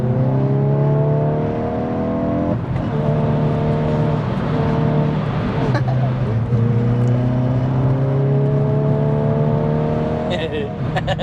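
Hyundai i20N hot hatch engine pulling through the gears, its note climbing and dropping with blipped rev-matched downshifts and brief dips between shifts, heard from inside the cabin as a steady, strong drone.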